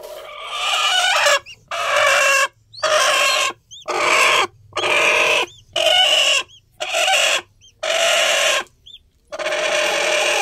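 High, repeated peeping calls from a newly hatched crossbred chick come in about ten steady bursts with brief gaps, close and clear, with no talking.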